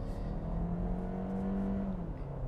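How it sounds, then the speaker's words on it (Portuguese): A 2023 Kia Sportage's 180-horsepower SmartStream mild-hybrid engine pulls steadily under acceleration, a continuous droning hum whose pitch climbs slowly, then drops as if shifting gears, heard clearly with no talking. "vamos lá então conhecer os 180 cavalos desse motor"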